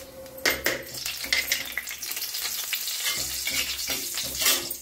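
Cumin seeds dropped into hot oil for a chickpea chole, a bright crackling sizzle with bursts of spatter and clattering pan and spoon knocks, close and unvoiced.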